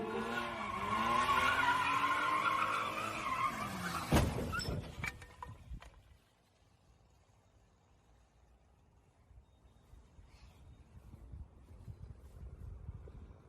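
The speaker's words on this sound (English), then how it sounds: "A car doing donuts accidentally hops the curb and breaks off the bottom of their car" A car doing donuts on a street: loud wavering tire squeal and revving engine for several seconds, cut off by a sharp crunching impact as it hops a curb, followed by quieter rumbling and faint crowd noise.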